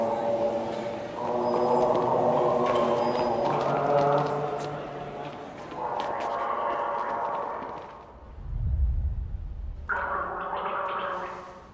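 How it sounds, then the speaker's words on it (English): Gurgling, gargling bubbles from a musical Christmas supermarket advert, rising under cheerful talk and festive music, then standing briefly alone as a low wet burble. "Is that gargling?"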